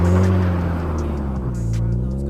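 A Mazda Miata on winter tires driving over snow while being pushed to slide, its engine droning loud and close with a steady, slightly rising pitch throughout.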